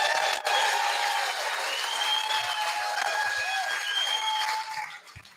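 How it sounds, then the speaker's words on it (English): Sustained applause from a civic gathering in Frankston honouring the mayor of the People's Council, a dense steady wash of clapping with faint cheers that fades away near the end. "we need to put our hands together and give Darren Bergwerf, the Mayor of the People's Council"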